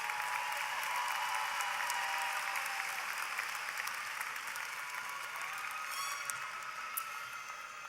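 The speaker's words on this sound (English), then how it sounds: "Let's applaud our College of Education and Health Professions graduates." Sustained audience applause at a university fall commencement ceremony, steady dense clapping from a large crowd filling the hall, holding at an even level throughout before easing slightly near the end.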